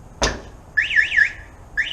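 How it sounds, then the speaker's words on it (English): Truck alarm going off: a sharp click or thunk, then a warbling electronic siren that sweeps up and down for about half a second and starts again, heard close and fairly loud. "So when I hit the alarm,"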